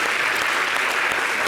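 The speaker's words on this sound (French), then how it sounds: "Donc, applaudissements pour Kylian." A television studio audience applauds throughout, a dense, steady wash of many hands clapping at close range, with no pauses and little else audible.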